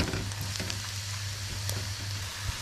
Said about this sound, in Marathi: आपला कांदा आता व्यवस्थित परतत आलेला आहे बघा